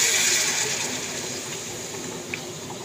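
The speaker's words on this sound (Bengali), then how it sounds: "এবার জলটা দিয়ে দিচ্ছি" Water poured into a cooking pot of fried spiced curry base, a steady rushing splash that is strongest at first and then eases into a softer continuous flow, close by with no talking.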